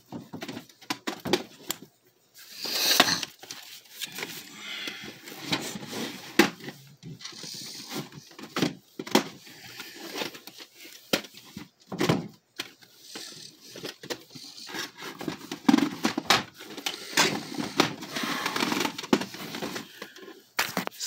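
Plastic VHS cassette cases clatter, scrape and knock as they are handled and slid back onto a shelf, with irregular close-up bursts of rustling and tapping throughout.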